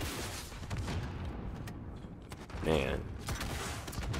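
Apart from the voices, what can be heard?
RPG rocket launcher firing and exploding in Call of Duty Modern Warfare, video game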